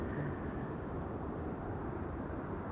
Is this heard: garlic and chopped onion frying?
no